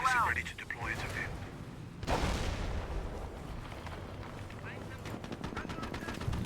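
Machine gun fire and battle noise from the strategy game Company of Heroes, British versus Panzer Elite, with bursts of gunfire and booms continuing throughout under a voice talking.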